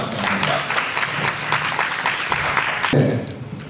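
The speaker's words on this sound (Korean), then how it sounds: "여러분, 좋은 발표 박수로 맞이하겠습니다" A forum audience applauding a presentation in a conference hall, steady clapping from a sizable crowd, with a voice speaking over it near the end.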